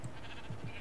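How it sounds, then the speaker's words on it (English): Sheep bleat in the Minecraft video game, a few short low calls in quick succession over a dense, steady background of game sound. "Dude, why are you summoning sheep?"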